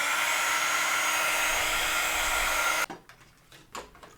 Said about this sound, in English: But now I'm going to heat emboss the powder that is on the glossy paste